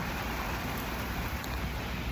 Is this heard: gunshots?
no